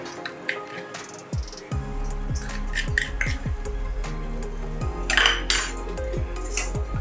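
A spoon scrapes and clinks against a metal pan in irregular strokes, with soft squishy stirring of thick carrot halwa, close by.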